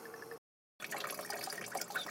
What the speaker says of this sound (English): Quite a bit of fuel draining, as you can tell.